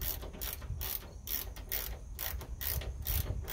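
A ratchet wrench tightens a roughly 5/16-inch metric bolt on an automatic parking brake cable tensioner, giving fast repeated clicking strokes in steady bursts, close and fairly loud, with no talking.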